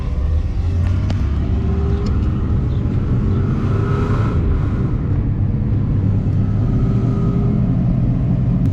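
A Nissan 300ZX convertible driving around the block, a steady loud engine and road rumble heard from inside the open-top car with wind buffeting throughout, no speech.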